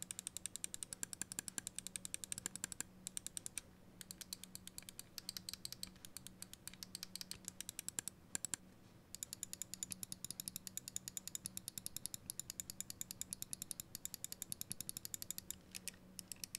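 Switch clicks from a Glorious Model D Wireless gaming mouse with Glorious-Kailh 80-million-click switches, pressed in a steady run of quiet, crisp, slightly dull clicks, close up with no voice.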